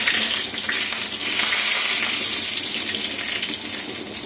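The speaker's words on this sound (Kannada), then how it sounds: "ಇವಾಗ ಕರಿಬೇವು ಸೇರಿಸ್ಕೊಂಡ್ಬಿಡ್ತೀನಿ" Curry leaves sizzling in hot oil for a fish curry, a loud, steady crackling hiss that stays even throughout with no voices.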